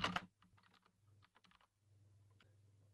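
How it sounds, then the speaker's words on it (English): Brisk keystrokes on a clicky computer keyboard, a quick burst of sharp clicks followed by scattered taps over a low steady hum, close and fairly quiet. "Apologies for my clicky keyboard. I like a clicky keyboard."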